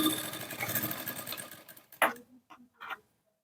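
Sewing machine cross-stitching the piping on a lined blouse, a steady close whirring run that stops short, followed by a few brief clicks and handling sounds.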